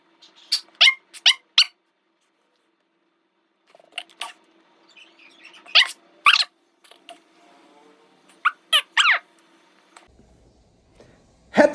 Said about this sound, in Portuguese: depois do latido aqui do cachorro